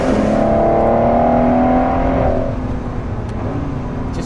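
Ford GT sports car driving along the Atlantic Ocean Road, its engine note loud and close with a steady rising drone that eases off and settles to a lower, continuous hum.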